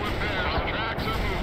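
Artillery fire mission in the video game World in Conflict: a brief, dense, rumbling barrage of booms with a voice talking over it.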